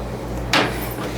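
An oven door shuts on a keto gingerbread cake batch going in to bake, a single short thud-and-clatter against a steady kitchen hum, close and moderately loud.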